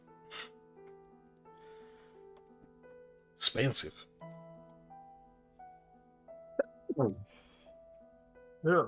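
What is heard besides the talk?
sneeze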